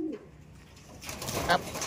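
Racing pigeons in a loft coo softly amid a busy background of fluttering and rustling, with a brief louder call near the end.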